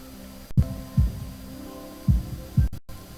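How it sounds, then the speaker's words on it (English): Heartbeat sound effect from the visual novel game Katawa Shoujo: soft, deep low thumps in paired beats, heard twice over a steady hum, with no talking. "heartbeats"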